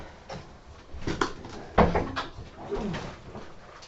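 A door swings and is pushed shut indoors with soft shuffling and creaking followed by a closing thud, close by and fairly quiet, with a few low cooing or creaky sounds around it.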